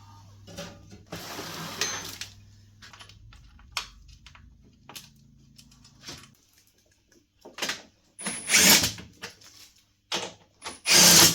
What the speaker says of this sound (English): I just drive them in a little bit to get the threads most of the way in